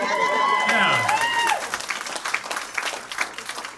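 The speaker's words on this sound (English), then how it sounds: "I was just going for the cheap applause break." Applause from a comedy club audience swells loudly for about a second and a half, mixed with cheers and a whooping voice, then thins into scattered claps and crowd murmur.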